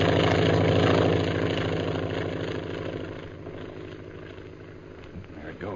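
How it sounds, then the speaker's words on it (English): A plane drones overhead in an old jungle adventure serial, a steady low engine hum that is loudest at first and slowly fades as it passes, with no talk over it. "What's that airplane doing around here?"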